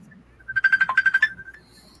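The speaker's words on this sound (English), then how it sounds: "I hear somebody's phone ringing." A short burst of bright electronic ringing, about a dozen rapid pulsing tones, clear and fairly close in an otherwise quiet room.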